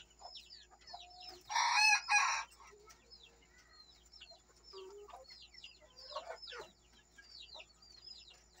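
Silkie chickens: a rooster gives one clear cock-a-doodle-doo while hens cluck softly and intermittently around it, close by in a quiet setting.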